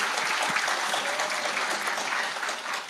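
A crowd at a Reform Party (개혁신당) presidential election rally breaks into loud, sustained applause, a dense steady wash of clapping that holds for the full stretch and eases slightly near the end.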